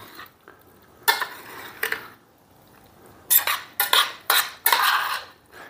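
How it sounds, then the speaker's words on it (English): Cooked rigatoni pasta tossed and stirred in a hot pan, giving several close, loud bursts of metal utensil scraping and clattering against the pan with quiet pauses between. "I'm gonna mix this up good."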